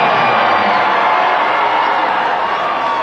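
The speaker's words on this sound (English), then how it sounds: "Parker Bossard gets a nice round of applause from the Geneva students as he comes out to midcourt" Geneva students applaud and cheer loudly as a basketball player is introduced at midcourt before a Section V Class B1 championship game, a steady dense crowd roar lasting throughout.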